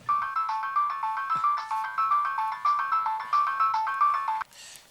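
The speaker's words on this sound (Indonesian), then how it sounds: "Lo terima telepon juga, Del?" A mobile phone rings with an incoming call, its bright, repeating melodic ringtone looping loud and close for about four and a half seconds before it cuts off, followed by a short rustle.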